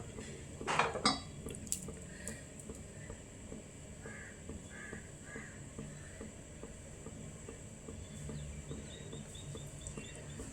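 A metal lid clatters onto a cooking pan holding egg pathiri, a sharp cluster of clanks near the start, followed by quiet kitchen sounds with crows cawing in the background.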